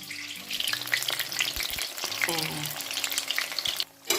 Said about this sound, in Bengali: বেসনের ব্যাটারে ডুবিয়ে মিষ্টি কুমড়োর ফুলগুলোকে দিচ্ছি তেলের মধ্যে ছেড়ে